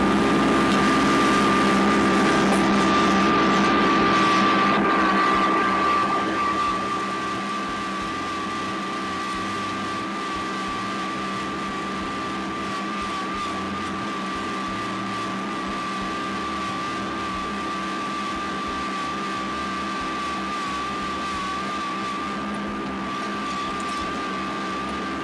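Tractor dragging a box blade grader across garden ground, scraping up dirt, debris and branches; a steady engine drone with a constant hum runs throughout, louder at the start and then settling to an even level.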